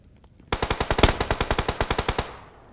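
Automatic gunfire in a competitive video game scrim, a rapid run of around fifteen sharp, evenly spaced shots, loud and close, ending in a brief fading echo.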